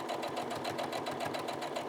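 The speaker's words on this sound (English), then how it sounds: "So you just kind of stitch in the ditch." Home sewing machine stitching in the ditch to secure trim on a little girl's dress bodice, a steady rapid needle chatter running continuously and close at moderate volume.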